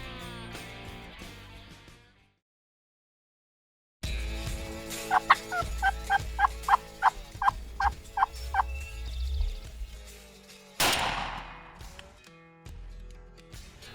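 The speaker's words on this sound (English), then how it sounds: "There's more birds gobbling to the left." Wild turkeys gobble repeatedly during an Iowa spring turkey hunt, a loud rhythmic run of gobbles following a brief silence, with other birds calling around them.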